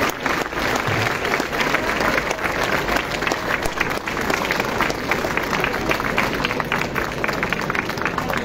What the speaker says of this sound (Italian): Applauso per l'impegno.